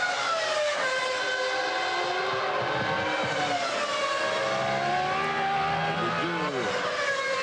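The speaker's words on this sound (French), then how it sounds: "Les deux voitures que vous venez d'entendre à travers le micro de notre cabine de commentaires, eh bien c'était justement Alesi et Villeneuve." Formula 1 cars of Alesi and Villeneuve at the 1996 Spanish Grand Prix scream past, their high engine whine sweeping up and down in pitch over a steady roar, picked up by a commentary booth microphone.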